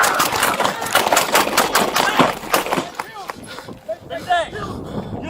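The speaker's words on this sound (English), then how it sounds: "Shots fired! Shots fired!" Rapid gunfire bursts from a police confrontation caught on dashcam, a dense run of loud shots over the first three seconds, then shouting voices and scattered sounds as the firing stops.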